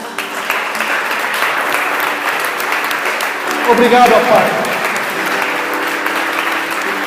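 Church congregation applauding the Lord during a worship service, a short burst of clapping rising in the middle while a preacher keeps speaking over it.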